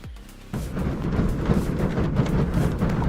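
A heavy block of snow breaks off a roof on a winter morning and lands with a sudden deep thud, followed by a sustained low rumble and crumbling that continues for a few seconds.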